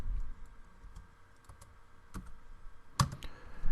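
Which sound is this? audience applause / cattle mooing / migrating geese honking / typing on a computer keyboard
typing on a computer keyboard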